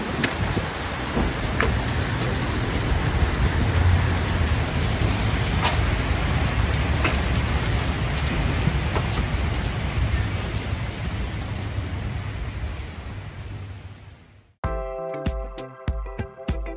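Steady, dense rain pours down close by in Alaska for a long stretch, a continuous hiss, before cutting abruptly to a brief burst of music.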